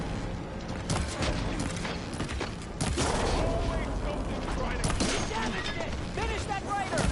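Sustained gunfire and clattering mechanical battle noise in a PS4 video game, with repeated shots layered over a dense, continuous din. A voice speaks at points beneath the noise.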